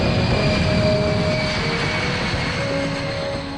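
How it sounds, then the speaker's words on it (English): Military warplanes taking off from an airfield in North Carolina at dusk give a loud, sustained engine roar with steady tonal hums that holds throughout and eases slightly at the end, with no talking. "The warplanes took to the darkening North Carolina sky."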